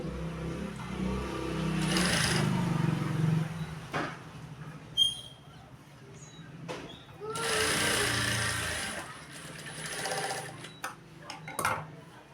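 Sewing machine stitching a blouse seam, running in two sustained bursts of rapid mechanical whirring separated by pauses filled with clicks and small handling taps. The machine is close and moderately loud, with no talking.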